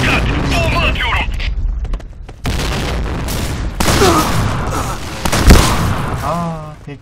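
A grenade thrown and exploding in the shooter game Point Blank, with gunfire and booms mixed with game effects, loud and close, while a voice talks over much of it.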